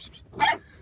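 A single short dog bark sounds at mid-distance outdoors, one sharp burst between quiet moments, with faint background noise around it.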